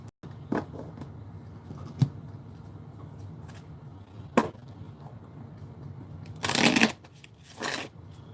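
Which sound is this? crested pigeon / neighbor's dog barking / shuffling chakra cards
shuffling chakra cards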